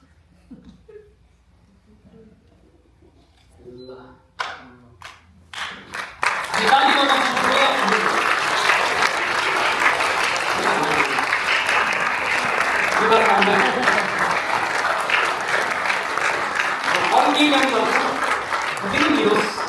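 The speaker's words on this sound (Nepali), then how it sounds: "ताली बजाउने छ हामी।" A few scattered voices and claps at an engagement ceremony, then a crowd breaks into sustained loud applause that fills the room for about thirteen seconds, with faint chatter mixed in.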